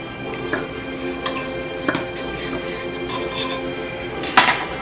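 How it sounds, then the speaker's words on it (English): A knife runs along the edge of a banana bread pan, giving scattered light metallic scrapes and clinks with a sharper knock near the end, close and fairly quiet. "We're just going to basically run a knife along the edge."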